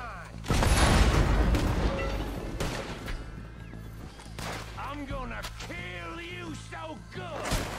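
Gunfire in a moonshiner shootout video game: a few sharp, loud shots spaced apart, mixed with someone talking excitedly over the game's background sounds.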